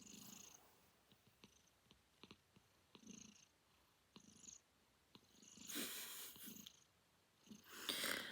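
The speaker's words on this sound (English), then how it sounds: "She's purring like anything." A cat purrs close by in soft rhythmic pulses, faint at first and then louder, with brief breathy bursts toward the end.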